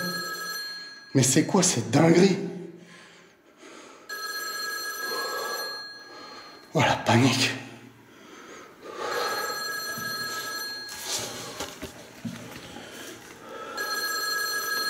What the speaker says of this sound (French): Mais d'où sort cette sonnerie de téléphone?